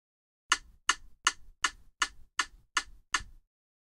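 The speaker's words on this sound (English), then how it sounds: "so to get that 16th note click rate on the metronome" Metronome clicking at 160 BPM, a 16th-note rate: eight sharp, evenly spaced clicks in quick succession, close and clear, with nothing else heard.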